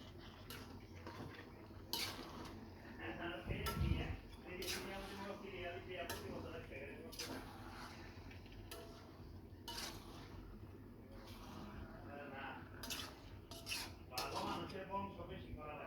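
A spoon stirs duck meat curry in a pot, giving repeated close clinks and scrapes against the metal in an uneven rhythm.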